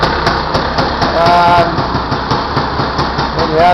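A Honda FL400 Pilot off-road buggy idles after a cold start with the choke on, a steady close engine chug with rhythmic mechanical ticking and a few faint whines over it.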